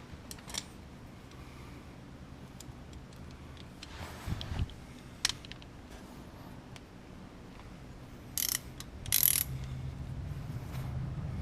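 Ratchet clicks in short bursts while a drain plug on a Saab Haldex all-wheel-drive unit is tightened, quiet mechanical ticking with a few louder metallic clacks and scrapes under a faint workshop hum.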